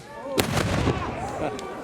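Gunfire at a WWII weekend reenactment in Dover marking the 75th anniversary of D-Day, with sharp loud blasts and a reverberating boom over the crowd, followed by a lingering echo and faint voices.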